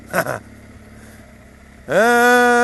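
A 2013-onward liquid-cooled BMW R 1200 GS boxer twin with a Akrapovič exhaust idles briefly and then revs hard into a loud, steady, throaty drone, close by and with no one speaking.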